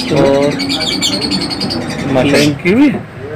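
Fischer's lovebirds and blue opaline birds in a breeding setup: close, loud chirps, tweets and rising-falling calls in short bursts, with people talking nearby.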